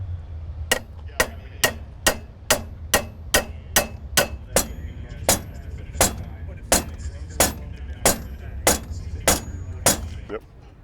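A hammer strikes metal about twenty times in a steady, loud rhythm while driving a bushing and seal out of a drag racing car's housing.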